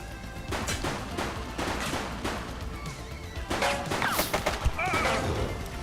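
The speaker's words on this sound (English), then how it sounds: "She's shooting!" Video game gunfire during a police chase: rapid bursts and single cracks of shots crowd together with crashes and impacts, fairly loud and dense, while voices call out faintly underneath.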